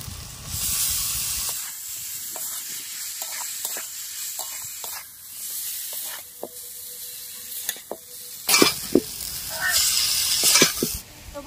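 Maggi noodles with sauce stir-fried in a pan, a hissing, steamy sizzle that quiets midway, broken by spatula clicks and scrapes, then swells louder again near the end, with brief speech.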